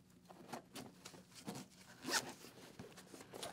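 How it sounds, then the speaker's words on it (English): The zipper on a Cortech Fusion motorcycle jacket is run open and closed in several short rasping strokes, quiet and close, with no talking. "good quality zips here"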